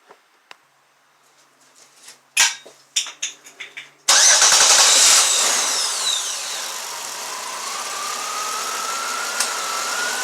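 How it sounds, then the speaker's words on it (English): A car engine cranks with a few short bursts, then catches and settles into a steady loud idle with a rising whine, probably from a car whose air conditioning has just been recharged after low refrigerant. "let me cut the car on and see if it works."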